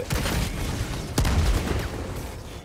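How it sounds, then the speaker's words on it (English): Dense, continuous gunfire crackles through a Helldivers 2 firefight, with one sharp, louder bang cutting through partway, and no voices. "Oh, somebody's still shooting."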